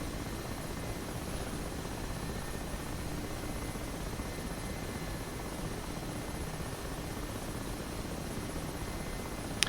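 Mi-8 Hip helicopter in DCS World, its rotor and turbine engines producing a steady dense whir and rumble that holds unchanged throughout, heard from inside the cockpit with no voices.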